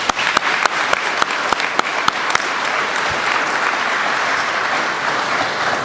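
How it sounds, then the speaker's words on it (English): An audience at a school commencement ceremony breaks into applause, with sharp individual claps standing out at first and then merging into a dense, steady wash of clapping. "please give them a round of applause."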